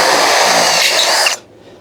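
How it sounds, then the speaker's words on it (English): A power drill whirs loudly and steadily for over a second, then cuts off abruptly into near silence. "Then you can drill them."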